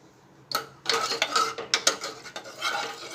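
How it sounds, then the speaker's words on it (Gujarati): A spoon stirs salt into water for moraiyo millet in a pot, with quick scraping and clinking strokes in an irregular rhythm, close and clear with no talking. "મિક્સ કરી લઈશું।"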